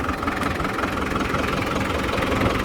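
A New Holland TS110 tractor engine idles steadily close by, a continuous low diesel rumble with a faint knocking texture and no talk over it.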